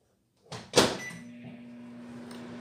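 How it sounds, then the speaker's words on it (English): A kitchen microwave oven heating a drink: a brief click and a thump as the door shuts and it starts, then a steady low hum that carries on alone at close range. "I'll pop this in the microwave"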